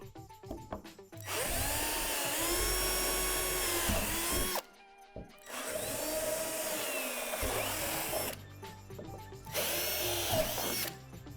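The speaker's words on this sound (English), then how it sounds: "Drill out the divots at the top of the slide with a 3/8 drill bit." A power drill with a 3/8 bit whines loudly through a plastic swing set slide in three sustained bursts, the first and longest lasting about three seconds, separated by brief pauses.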